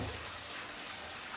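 Water runs steadily from an outdoor fountain at an apartment in Portugal, a continuous soft gushing wash with no talk over it.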